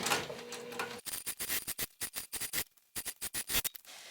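Sewing machine running a basting stitch around a travel bag gusset, a quiet rapid series of rhythmic needle clicks in short runs after a brief rustle of fabric.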